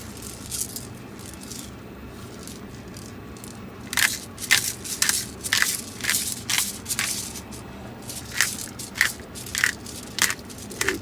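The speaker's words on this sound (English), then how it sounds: "So I'm going to put the organic whole pepper." Whole organic pepper is ground over a hot pot in bursts of sharp, crunchy cracking, irregular grinding clusters that start soft and grow louder, close to the listener above a faint background hum.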